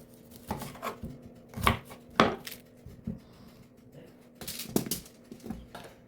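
A knife cuts onions into thick slices on a cutting board, producing irregular thuds and knocks in small bursts with quiet pauses between them, recorded close.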